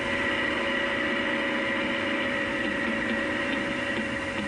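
A Leyland 344 tractor ploughs through the early hours, its engine droning at a steady, unbroken pitch, close and continuous with a faint mechanical whine above it.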